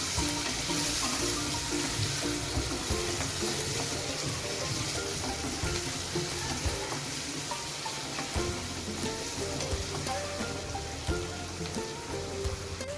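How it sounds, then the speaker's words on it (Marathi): Onion is sautéed in oil for paneer bhurji, producing a dense, steady sizzle that fills the whole stretch at close range, with no voices. "कांदा आपण तेलामध्ये छान परतून घेऊया"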